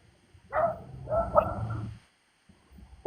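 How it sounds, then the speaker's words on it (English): A dog barks in a few short bursts at moderate distance, with a quiet pause and a faint bark at the end. "What is that barking sound"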